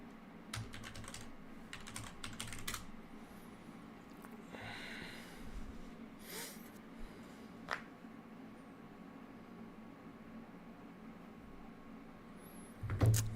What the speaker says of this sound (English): Typing's hard, apparently.